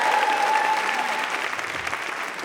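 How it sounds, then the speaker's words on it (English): An audience at a live Moth storytelling show in London claps, a dense burst of applause close up that slowly tapers over a couple of seconds. "Let's get a round of applause just for being here this evening"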